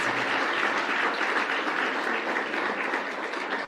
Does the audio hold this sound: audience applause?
yes